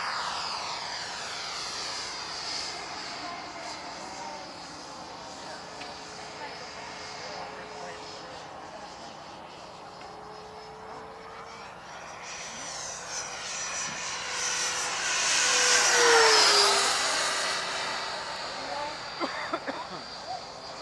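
A Stinger 90 aircraft in flight after its landing gear is retracted, its engine a sustained drone that rises and falls in pitch, growing louder to a peak as it passes, with faint talk in the background.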